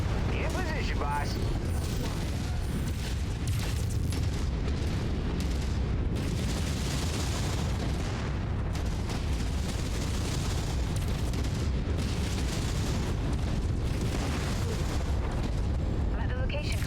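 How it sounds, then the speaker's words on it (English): A mech battle in MechWarrior 5 with a continuous roar of explosions and heavy weapon fire, booming and rumbling loudly throughout with little pause. "That was a big explosion."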